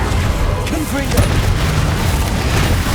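In Hogwarts Legacy, a Confringo blasting spell explodes in a dense, heavy boom that rumbles loudly and continuously through the whole moment, with a voice briefly heard amid the blast.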